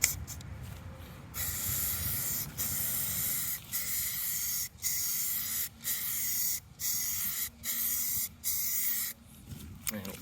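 Spray gun applying a second coat of paint to boat trim and vents: a steady broad hiss runs through most of the stretch, broken by several brief pauses between passes, close and fairly loud.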